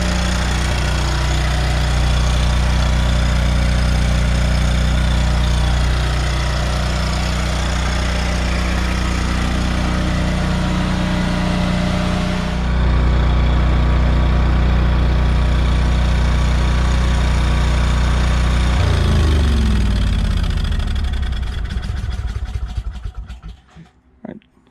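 A 15kW Westinghouse generator runs inside a DIY enclosure shed, heard close on the exhaust side as a loud, steady engine drone that shifts partway through and then winds down and shuts off at the end.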